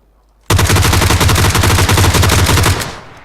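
A G36C rifle fires in PUBG Lite, a loud, rapid automatic burst that starts abruptly and rattles on for over two seconds before cutting off, with no talking.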